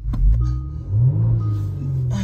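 A car starts up in a short close-up burst, its low engine rumble swelling into a brief rev and then settling to a steady idle.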